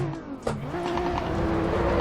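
A BMW car engine in the Assetto Corsa racing game revs up steadily, its rising drone building in loudness over two seconds after a short sharp knock.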